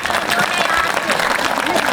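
Audience at a village Shrimad Bhagwat katha and Vishnu yagya gathering claps loudly and continuously for a tableau, a dense roar of applause filling the short stretch.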